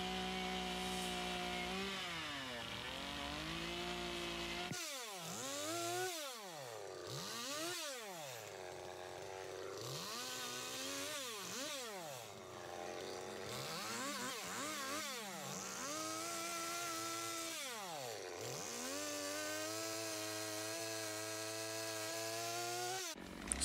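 A chainsaw carving a wooden bear sculpture, running continuously up close with the engine repeatedly revving up and dropping back in pitch as the blade bites into and leaves the wood, with no talking.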